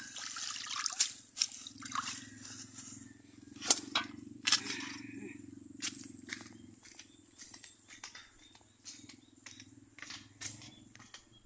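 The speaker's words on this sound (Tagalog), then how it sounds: "Hugasan man natin konti para mahugasan." Water trickling and splashing as vegetables and sweet potato tops are rinsed, with intermittent drips and clicks over a steady outdoor background hum; no talking.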